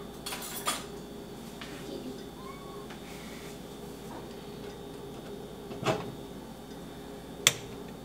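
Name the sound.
spoon being grabbed from cutlery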